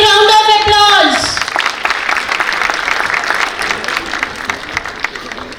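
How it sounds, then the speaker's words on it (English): A school annual function audience breaks into loud applause that sustains for several seconds, following a brief stretch of tonal music or voice at the start, then gradually thins toward the end. "Give her a big round of applause."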